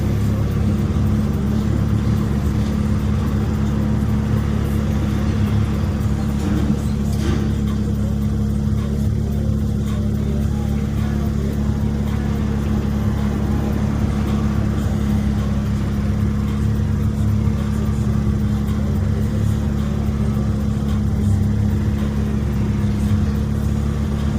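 Turbocharged car engine pulling hard under 21 psi of boost, a steady loud drone heard from inside the cabin that holds a constant dense roar throughout with no voices.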